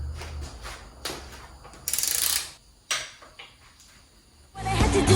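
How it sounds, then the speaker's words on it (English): Torque wrench tightening main cap bolts on an LQ4 engine block during a budget LS build, a few loud, close ratcheting clicks and metallic clunks with short gaps, no one speaking. "We're gonna set our torque wrench to about 16 foot-pounds."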